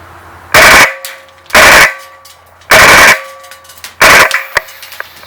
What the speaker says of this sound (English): I'm going to shoot the rest of this magazine full auto.